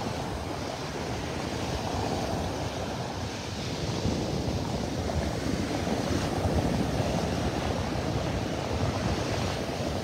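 Surf washing steadily onto the beach at North Hutchinson Island at sunrise, a constant broad roar of breaking waves with some wind rumble, no voices.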